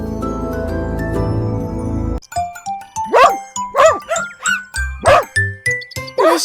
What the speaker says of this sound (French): Le chiotin aboyait et remuait la queue de joie.